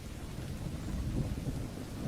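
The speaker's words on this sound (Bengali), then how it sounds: "বাইরে মুষলধারে বৃষ্টি পড়েই যাচ্ছে। যদিও বাজ পড়া একটু কমেছে, কিন্তু বৃষ্টির তেজ কমেনি।" Heavy downpour with a low rolling rumble of thunder that swells and fades under the steady roar of rain, with no voices.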